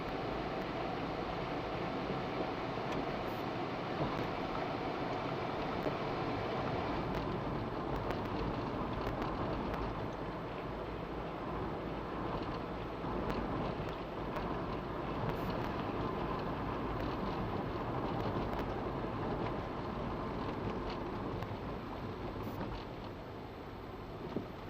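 A 1.8-litre Audi A3 SE automatic idles steadily, giving a continuous, even drone with a low hum underneath and no clear changes, heard from close by with no voices.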